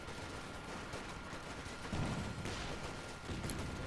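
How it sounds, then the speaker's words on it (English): Automatic weapons fire in the Company of Heroes 2 strategy game, a dense continuous crackle of overlapping bursts from many units, fairly faint and steady, with a slightly heavier burst near the end and no talk. "A lot of automatics being fired."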